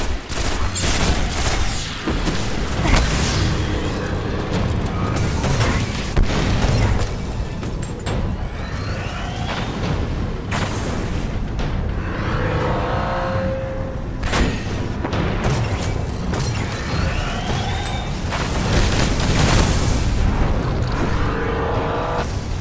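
Artillery fire in the Destiny House of Wolves expansion, where heavy booms and rolling fusillades of gunfire pile up continuously with a dense, loud, battle-like rumble throughout and no talk.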